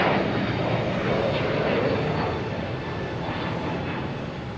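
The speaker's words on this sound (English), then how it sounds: "the A321 Neo heading to San Francisco" A Delta Airbus A321neo jet roars steadily on its takeoff roll toward San Francisco at Boston Logan, a broad, continuous engine rumble that stays strong for several seconds and then eases slightly, with no voices over it.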